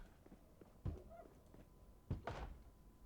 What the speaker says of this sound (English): there's definitely somebody banging on this house